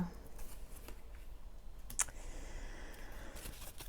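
Tarot cards shuffled and drawn from a deck, a faint run of soft papery riffles and light flicks with one sharper snap midway, heard close and quiet with no talk.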